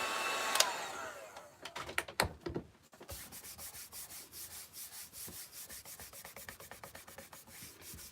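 Rubbing across a wooden wildflower sign to smooth out wrinkles after heating it, giving a steady repeated scrubbing that pulses rhythmically in close, quiet strokes after a few brief clatters, with no talking.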